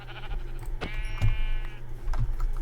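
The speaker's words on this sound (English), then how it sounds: "here is a sheep I'm going to murder" A sheep in a video game bleats once, a short wavering call over steady game background noise, with no voices.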